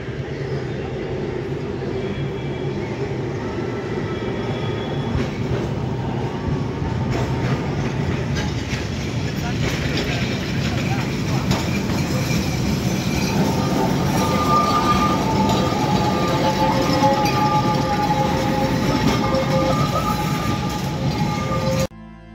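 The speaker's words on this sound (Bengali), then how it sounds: "ওরে মন দিয়ে ট্রামের শব্দ শুনিস" A heritage Kolkata tram running on its rails gives a continuous loud low rumble with rattling wheels and clattering joints, while faint metallic squeals and tones rise over the steady roll.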